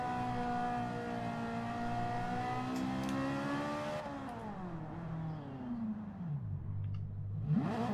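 A Ferrari race car engine in a video game racing event roars steadily with rich harmonic tones, pitch rising and falling as it revs and drops, then climbing sharply again near the end.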